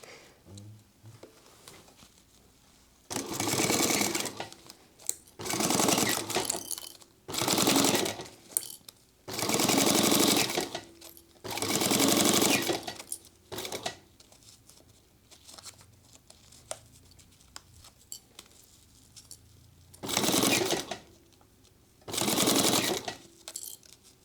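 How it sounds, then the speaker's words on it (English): A sewing machine runs in about seven firm bursts separated by short pauses, stitching a quarter inch along zipper tape through three layers of fabric for a homemade sling crossbody bag. It is close and loud, with no talk. "we're going to go, again, 1/4 inch along the zipper tape and all 3 layers total."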